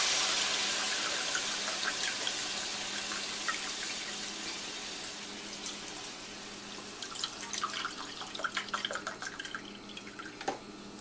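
Vegetable broth pours into a cooking pot, 2.5 cups in all, for Indian stuffing: a steady liquid splash and trickle with faint drips, growing sparser and more dripping toward the end, close and alone without talk.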